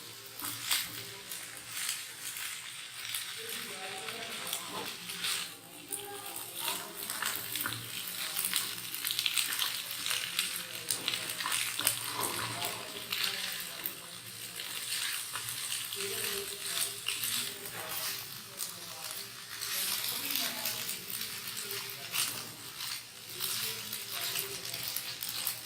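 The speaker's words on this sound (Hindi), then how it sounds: "इसको अच्छी तरह से मिक्स करके 2-3 मिनट चूल्हे पर लाइट फ्लेम पर रखेंगे" Piri piri chicken pasta fries in a pan on a low flame, a continuous close sizzle with faint stirring and pattering that lasts throughout.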